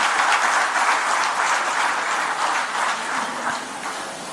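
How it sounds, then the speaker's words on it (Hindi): Sustained audience applause at a World Thalassemia Day awareness event in Delhi, a dense wash of many hands clapping that slowly tapers toward the end. "एक बार और जोरदार तालियों से सर का आभार प्रकट करें।"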